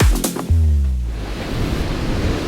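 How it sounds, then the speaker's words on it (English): Sea waves breaking at a beach beside a house, a loud close surf crash followed by a steady hiss of wash and wind, with no talk. "I'm fortunate enough to live right next to the beach. The sea is literally on my doorstep."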